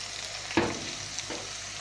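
Ginger garlic paste and whole spices fry over a medium flame in a kadai, sizzling steadily and closely, with two scraping stirs cutting through the hiss.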